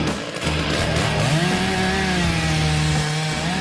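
A chainsaw roars close by, cutting into a Christmas tree. Its engine pitch rises as it bites into the wood, then holds a steady, loud snarl throughout.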